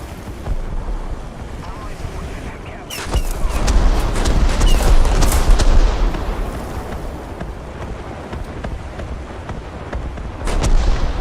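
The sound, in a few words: artillery barrage in video game War Thunder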